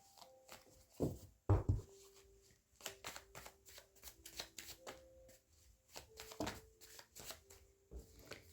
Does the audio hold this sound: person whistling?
no